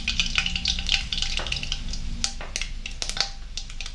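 Mustard seeds splutter in hot oil in a pan for a mural fish curry, giving a close crackling sizzle with irregular sharp pops and stirring sounds and no talk.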